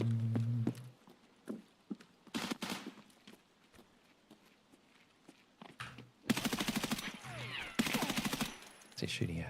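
Gunfire in Escape from Tarkov, sharp broadband bursts of several rapid shots in clusters, some loud and close, others fainter, with pauses and game ambience between them.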